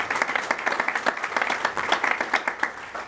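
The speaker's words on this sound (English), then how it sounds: "let's give all of them a big warm applause for their service to all of us" Outdoor Memorial Day crowd at Fort Custer applauds volunteer honor guards, a dense, steady wash of many hands clapping together at moderate distance, sustained throughout with no speech over it.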